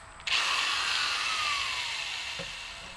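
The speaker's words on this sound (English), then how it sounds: "I drill a smaller hole first because it takes less down pressure." A drill bores a small pilot hole in a Kohler bearing plate clamped over wood blocks, a steady whirring grind that starts abruptly and continues with a slowly falling pitch before a faint knock near the end.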